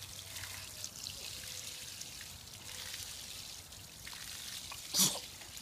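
A steady, soft hiss of water spraying continuously from a garden hose, with a brief sharp burst near the end.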